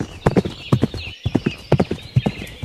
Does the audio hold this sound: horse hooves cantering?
yes